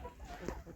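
A brief, soft clucking from chickens close by in Jamaica, a few low murmuring notes over a quiet outdoor background.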